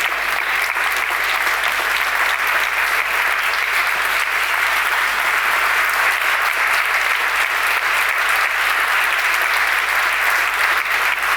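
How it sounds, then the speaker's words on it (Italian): Sustained, loud applause from an audience at an international award ceremony, a thick uniform roar of clapping hands filling the room without a break. "Non è un caso questo bell'applauso"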